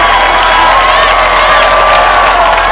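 Loud, close crowd cheering with whoops and shouts at an obstacle climbing competition, a continuous roar of voices answering a competitor who calls for more.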